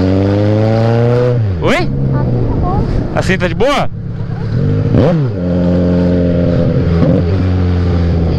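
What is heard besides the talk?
loud Kawasaki Z1000 motorcycle engine revving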